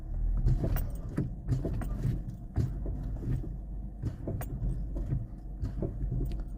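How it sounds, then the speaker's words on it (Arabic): A slow-rolling car gives repeated sharp knocks and clunks at irregular intervals when lightly braking, over a low, steady engine and road rumble; the steering pulls left under braking. "مع اقل لمسه فرامل في صوت خبطه شديده"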